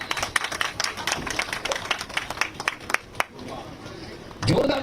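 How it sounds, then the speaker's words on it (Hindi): A crowd claps in a dense patter at a music students' event welcoming the Chief Minister in Harihar Pur village, Azamgarh, thinning out after a few seconds, with a voice joining at the end. "जोरदार तालियां हो जाए"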